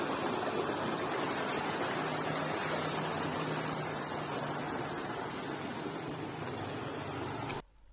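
A waterfall at the Tata Pani natural hot spring pours from a mountainside. The roar is a steady, dense rush that stays loud and even, then cuts off abruptly at the very end.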